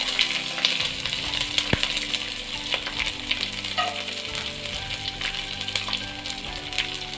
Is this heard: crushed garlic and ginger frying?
yes